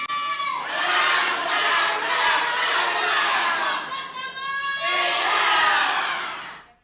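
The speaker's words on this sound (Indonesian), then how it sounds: "Selanjutnya kepada pendukung paslon nomor urut 3, silakan berikan tepuk tangan dan menyuarakan yel-yelnya." Supporters of candidate number 3 at a regency head election debate cheer and chant yells in a big, sustained crowd roar, with shouted voices rising and falling in waves before cutting off at the end.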